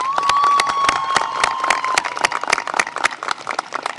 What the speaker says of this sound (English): Let's give our parents a round of applause.